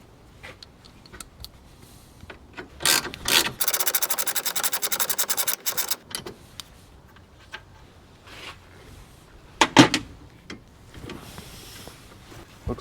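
A ratchet is cranked on the last condenser bolt of a 2002 Chevrolet Suburban during an air conditioning overhaul, a rapid run of close clicks lasting about three seconds, surrounded by scattered clanks and tool handling.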